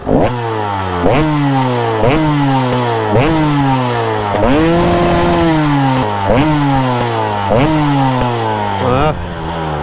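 A KTM 300 EXC two-stroke dirt bike fitted with a test silencer revs loudly and close by, its engine repeatedly blipped and falling back in sharp, raspy bursts, with one longer sustained rev partway through.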